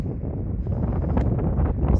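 Strong wind buffeting the microphone on a seashore, a steady low roaring rush that fills the whole clip with no clear speech.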